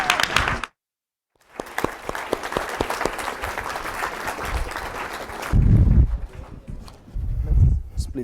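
A conference audience at the PRME Global Forum gives a round of applause for a speaker, with steady clapping from many hands that fills the room for several seconds after a brief pause. Low rumbling handling noise and voices follow near the end.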